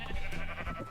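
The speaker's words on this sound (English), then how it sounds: "I have my sheep here." Blue-dyed sheep in a Minecraft-style farming game bleat in a close, steady, slightly wavering cry that fills the short moment without any talk.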